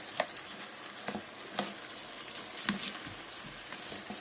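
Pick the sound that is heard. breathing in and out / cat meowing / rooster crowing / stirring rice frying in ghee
stirring rice frying in ghee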